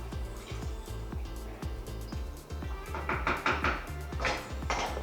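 A spoon stirs and knocks against a pot on the stove, giving a steady rhythm of light clinks and scrapes, close and moderately loud.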